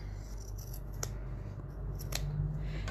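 Scissors trim excess fabric while sewing a tab zip, several crisp snips spaced unevenly over quiet, close-up background hum with no talk.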